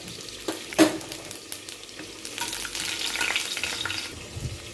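Whole cumin seeds frying in hot oil, with bay leaves already in the pan, making a steady close sizzle with a sharper crackle near the start and stirring scrapes through the rest.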